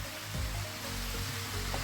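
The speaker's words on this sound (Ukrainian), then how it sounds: "Смажимо на середньому вогні." Onions sizzle and crackle in hot oil over medium heat, a steady frying hiss with a few soft scraping stirs, no talking.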